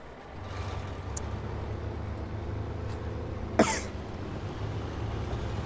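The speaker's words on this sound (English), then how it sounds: "I thought I heard someone cough." A single short cough from a person in the room, sharp and fairly close, rising briefly over the low steady drone of a truck engine in a SnowRunner game.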